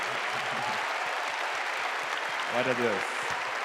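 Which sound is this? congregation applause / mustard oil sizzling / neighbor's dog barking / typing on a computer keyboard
congregation applause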